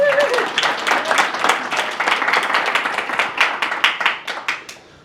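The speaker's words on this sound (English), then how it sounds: "let's give a round of applause to our panelists" Audience applause for panelists at a conference, a burst of dense clapping that thins to a few scattered claps and fades out.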